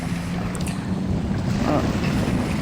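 Strong outdoor wind buffets the microphone in a steady broadband rush, loud and continuous throughout with no clear gusts or pauses.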